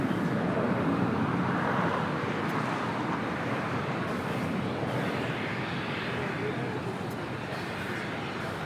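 An Alaska SkyWest Embraer E175 LR jet taxis at LAX, giving a steady, broad engine rumble and whoosh heard from a distance, with faint background voices.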